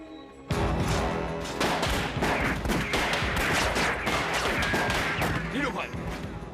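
A volley of gunfire in a Taiwanese historical TV drama, dense overlapping loud shots and bursts filling the scene continuously, with shouting voices mixed underneath.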